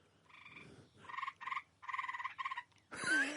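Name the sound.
tree toads croaking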